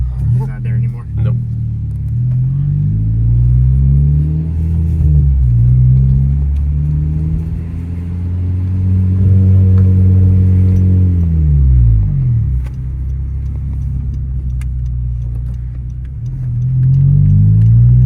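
A 2013 Honda Civic Si coupe with an Invidia N1 catback exhaust revs repeatedly, its loud, close engine note climbing and falling in sweeping pulls over a steady deep rumble.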